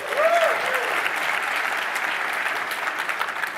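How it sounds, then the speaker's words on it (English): A conference audience in Philadelphia breaks into steady applause, a dense clatter of clapping hands that holds at an even level throughout. A brief voice cuts through at the very start. "Can we get a round of applause?"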